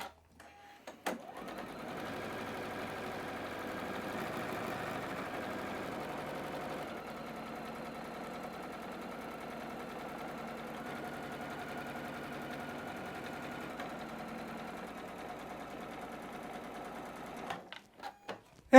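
Close by, a sewing machine runs a long, steady seam attaching a rectangle of sashing to a square quilt block, its rapid even whir holding for most of the stretch before halting with a couple of clicks.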